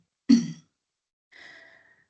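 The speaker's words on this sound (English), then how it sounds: "sorry, just clear my throat" A single sharp throat clearing, followed after a short pause by a softer breathy exhale, with silence around both.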